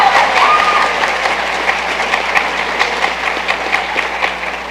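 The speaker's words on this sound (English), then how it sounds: "Please applaud very loudly for Caleb." Loud audience applause fills a university convocation hall, a dense sustained wash of clapping with sharper individual claps popping out, continuing steadily without speech.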